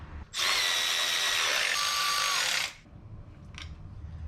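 A power tool drives a valve cover bolt tight on a 1977 Datsun 620, one loud, close, steady whir of about two seconds that stops abruptly, followed by a faint click.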